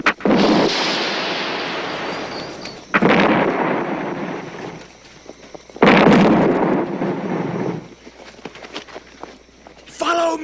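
A signal cannon fires in an eighteenth-century military setting, giving three loud, booming blasts that roll away over a few seconds, with voices shouting nearby.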